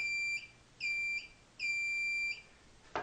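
A modified Garrett 350 metal detector switching on, giving three steady high electronic beep tones of about half a second each, evenly spaced, followed by a short click, alone with no talk.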